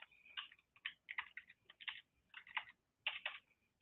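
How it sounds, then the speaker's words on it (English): Someone types on a new computer keyboard in quick, uneven bursts of crisp, close key clicks with short pauses between them, quiet and with no voice over it. "I gotta get used to this new keyboard."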